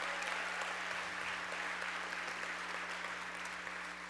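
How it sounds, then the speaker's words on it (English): An audience at a school-district awards ceremony applauds in a steady, dense wash of clapping that holds evenly for a few seconds, heard from a distance with a faint low hum beneath. "Let's give them a big round of applause."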